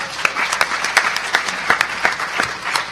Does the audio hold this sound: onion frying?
no